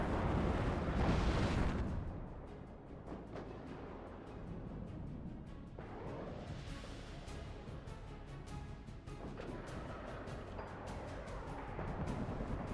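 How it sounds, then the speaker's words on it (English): Artillery strike explosions in the WARNO real-time strategy video game, a heavy booming rumble at the start followed by continuous low, rolling blasts and crackling impacts at a distance. "we actually have a friendly helping out with some artillery"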